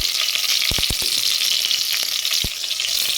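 Mustard seeds, dried red chili, curry leaves, dal and a pinch of asafoetida fry in hot oil, giving a steady close sizzle with several sharp pops and crackles.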